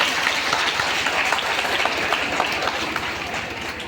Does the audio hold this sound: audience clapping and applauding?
yes